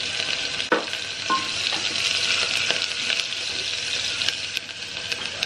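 Sliced onion with a pinch of turmeric fries in a pan, giving a loud, constant sizzle broken by a few sharp clinks and scrapes of stirring, heard up close and without talk.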